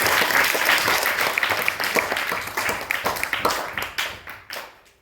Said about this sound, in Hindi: बहुत अच्छी बात है, ताली बजाइए इनके लिए।